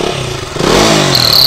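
A turbo whistle fitted to the exhaust of a KTM Duke 200 motorcycle, a rising engine rev joined near the end by a sharp, high, steady whistle, loud and close.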